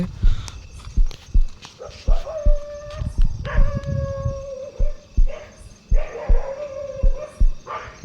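A dog barks repeatedly outdoors, rising into howl-like, drawn-out tones between sharper yips, heard at moderate distance alongside scattered footsteps and thumps.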